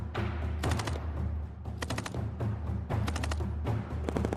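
An automatic weapon fires bursts at a rate of 1,000 rounds a minute on a military training range, in several rapid volleys of cracking shots separated by short pauses, with a rumbling backdrop between them.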